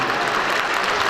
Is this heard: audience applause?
yes